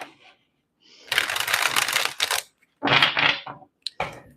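A deck of tarot cards is shuffled slowly and thoroughly at close range, with a few dense riffling bursts separated by short pauses, and faint soft handling noises between them.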